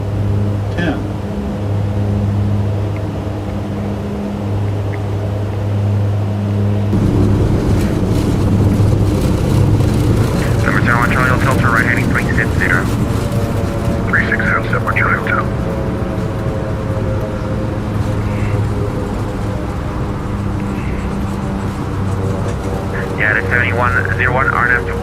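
A Dash 8 Q400 turboprop in the X-Plane 12 flight simulator starts its takeoff roll. Its engine hum swells partway through into a louder, steady turboprop drone with whining tones, and brief chirpy voice or radio bursts sit over the top.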